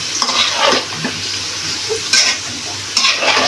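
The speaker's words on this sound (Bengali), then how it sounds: "ভালো করে নাড়াচাড়া করে নেবে।" A spoon scrapes and stirs sour yogurt into a potato biryani mixture in a hot pan, with soft repeated swishes and scrapes over a constant low sizzle, close and fairly loud.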